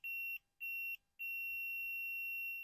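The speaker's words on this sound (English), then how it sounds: "That means there's continuity in between those two points." A multimeter on continuity setting beeps while probing a clothes dryer heating element: two short shrill beeps, then a longer sustained tone, close and clear, with no talking.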